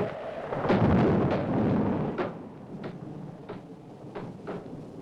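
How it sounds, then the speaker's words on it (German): Wind-rattled window shutters on an old house during a stormy night, a deep rumbling rush followed by a series of sharp knocking rattles at irregular intervals, no voices. "Das ist nur der Wind. Der rüttelt überall an den Fensterläden."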